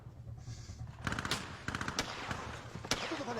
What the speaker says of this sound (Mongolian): Тэндээс буудаж байна. Дээрээс.